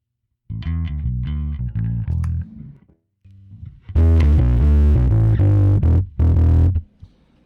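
Bass guitar through a Spaceman Effects Saturn VI low-gain overdrive pedal plays gritty, mildly distorted notes and chords, a short phrase, a pause, then louder sustained hits.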